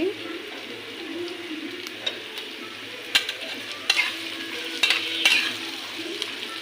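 Chickpea lentils fry in a pan with a soft, steady sizzle, broken by a few sharp spatula knocks and scrapes against the metal, fairly close and without talking.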